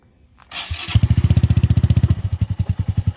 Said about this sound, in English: That's what it sounds like with the silencer.